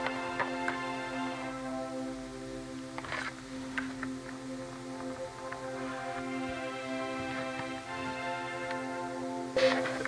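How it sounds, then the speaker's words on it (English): Sustained layered string tones drone steadily while the upper brightness gradually dulls and shifts, a low-pass filter sweep darkening the sound, with a few faint clicks. "in this case, it's a low pass filter."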